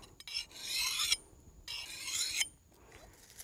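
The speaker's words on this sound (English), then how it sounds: "Essentially, I'm filing that burr off" A hand file rasps across an axe blade to remove the burr during field sharpening, two long close strokes separated by short pauses, with a fainter third stroke starting at the end.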